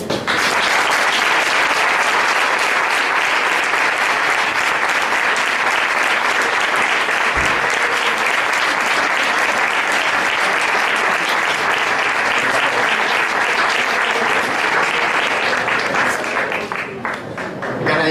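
Falla members give a heartfelt ovation at a presidential proclamation ceremony, loud sustained applause from a large indoor crowd that carries on unbroken for many seconds before starting to thin out at the end.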